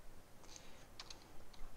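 Someone types quietly on a computer keyboard, a few soft, scattered key clicks over low background noise with no talking.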